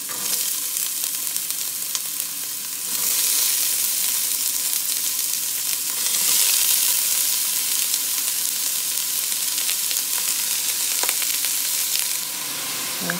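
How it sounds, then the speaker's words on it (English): Carrots, celery and onion sauté in avocado oil for a New England clam chowder, giving a loud, steady close-up sizzle with occasional swells and stirring scrapes throughout. "add in our carrots, celery,"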